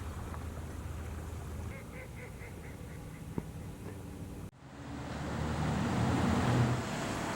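Long-tailed ducks, common eiders and other sea ducks call in a sheltered winter harbor on the Maine coast, a run of short, evenly spaced calls at moderate distance over steady ambient noise, followed by a louder rushing background.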